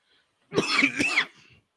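A single short, breathy cough, close and fairly loud, with a slight throaty tail.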